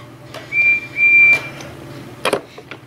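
A steady high whistle sounds twice in a row, the second note longer, followed by a brief burst of clattering noise.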